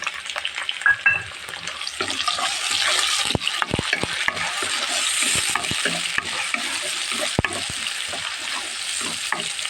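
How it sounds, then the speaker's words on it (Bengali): Shrimp frying in a hot pan, browning for a cabbage stir-fry, with a steady close sizzle broken by sharp clicks and scrapes of stirring throughout. "চিংড়ি মাছটা আমি লাল লাল করে ভেজে নিয়েছি"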